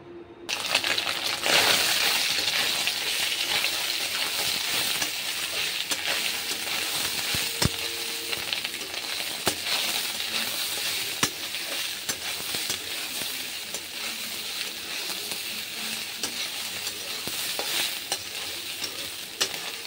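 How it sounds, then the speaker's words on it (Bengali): Soybean chunks frying in oil with a constant sizzling hiss, punctuated by occasional clinks and scrapes of stirring over about twenty seconds. "ভাজার তেলে আর একটু সাদা তেল দিয়ে দিয়েছি। এবার সয়াবিনটা ভালো করে ভেজে নেব।"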